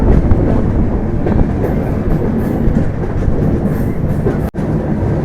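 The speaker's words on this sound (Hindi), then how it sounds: "ट्रेन नंबर 12270 चेन्नई दुरंतो में तूफानी सफ़र।" The Chennai Duronto Express, train number 12270, runs loud and steady on the rails, with a continuous rumble and rattling clatter of the sleeper coaches and no break in the motion.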